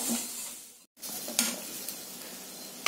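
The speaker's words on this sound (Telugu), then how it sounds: "ఇప్పుడు ఇందులో ఈ అరటికాయ ముక్కలను వేసుకుందాం. వేసి బాగా కలపండి." Raw banana pieces frying with onions in a pan sizzle steadily while being stirred, with a brief scraping stir around the middle and a short break in the sound.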